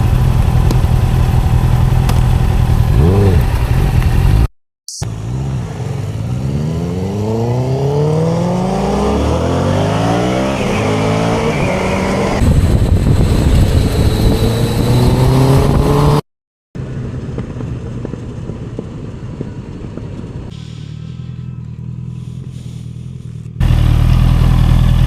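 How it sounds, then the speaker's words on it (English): Motorcycle fitted with an Akrapovic full-system exhaust, idling then revved repeatedly with sharp rising and falling engine sweeps, loud and close, with brief cuts between bursts. "I love the exhaust on it."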